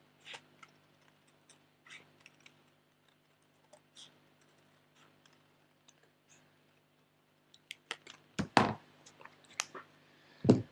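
Scissors snipping a cloud shape out of paper, faint scattered clicks early on, then a cluster of sharper, louder cuts near the end, close and without talk.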